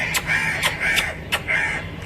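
A crow gives a series of harsh, nasal caws, four or five calls in quick succession, close and fairly loud against a quiet background.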